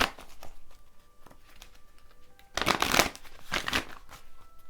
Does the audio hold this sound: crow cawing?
no